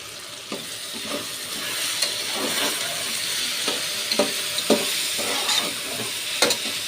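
Turmeric powder is stirred into a rice mixture frying in oil for a Karnataka-style rice bath: a spoon scrapes steadily with occasional sharp clinks over a continuous close sizzle, and no one speaks.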